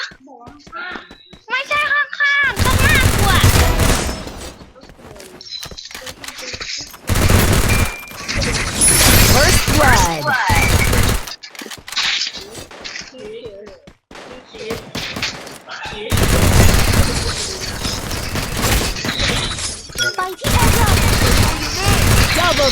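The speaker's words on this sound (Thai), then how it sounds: "ยิงแรงจังวะ" Gunfire in the Free Fire video game, loud bursts of rapid shots and sustained automatic fire broken by short gaps, with young voices talking and shouting excitedly over it.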